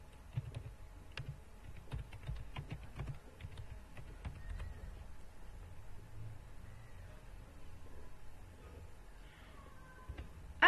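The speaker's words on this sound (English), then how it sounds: "Now type in the picture you are looking for." Quiet computer keyboard typing at close range, a steady run of light, uneven key clicks and taps with no talking.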